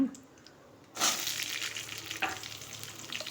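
Dried red chillies with curry leaves and asafoetida start frying in hot oil in a pan, bursting into a loud continuous sizzle after a brief quiet moment, with a few sharper crackles and pops throughout.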